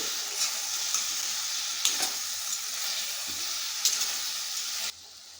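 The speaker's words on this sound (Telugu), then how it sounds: "కర్రీని అయితే ఒకసారి ఇలా కలుపుకుందామండి" Tomato and brinjal curry is stirred in a hot pan, a steady close sizzle broken by occasional scraping knocks of the spoon, then the frying cuts down sharply to a quieter hiss near the end.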